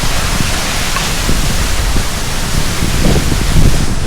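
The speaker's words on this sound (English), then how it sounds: "This is the front view of the waterfall." Baba waterfall at Amboli Ghat in the monsoon, a loud dense continuous roar of falling water heard close, steady throughout with no voices.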